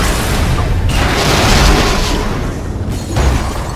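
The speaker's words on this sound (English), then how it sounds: "Possible laboratory break-in confirmed by big explosion." Big explosion in Lego Marvel Super Heroes, a loud, sustained rumbling blast with a second burst swelling near the end.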